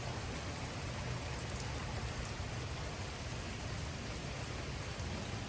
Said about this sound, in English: Dude, it is raining buckets out here.